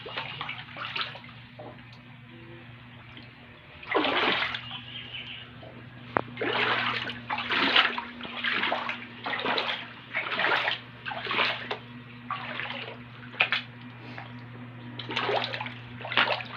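Dirty floodwater over a former rice field sloshes and splashes in repeated surges, close by, over a steady low hum, with rushes coming every second or so.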